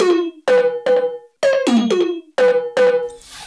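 A distorted synth sound with slap delay and reverb plays a short choppy pattern of bright, gritty stabs with quick echoing repeats. It is loud and close, with no voices.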